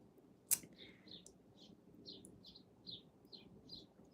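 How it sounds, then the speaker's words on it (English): Small birds chirp in a steady series of short, high calls against a quiet outdoor background, with one sharp click near the start. "Can you hear the birds?"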